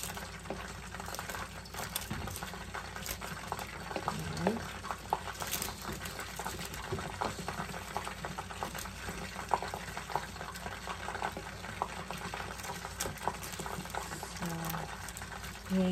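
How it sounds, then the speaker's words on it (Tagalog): Pancit bihon noodles stirred into boiling broth in a pot, a steady bubbling, simmering wash with occasional soft clinks of the utensil, continuous and fairly loud, without speech. "I-mix ko lang po sa pinaka-sabaw niya para lumambot ang ating pancit bihon."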